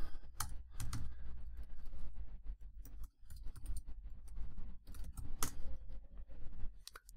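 Quiet, close typing on a computer keyboard, a rapid run of light key clicks with brief pauses, as a share name is entered into the Windows Explorer address bar.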